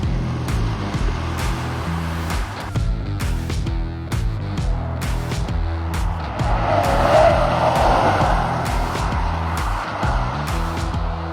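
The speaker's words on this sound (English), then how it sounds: "If you've ever wondered how a brand new Tesla Model X goes around a racetrack" A 2025 Tesla Model X all-wheel-drive, a long-range dual-motor electric SUV, laps a racetrack: steady electric motor whine with repeated loud tire squeal and skidding through corners, close and continuous, with no talking.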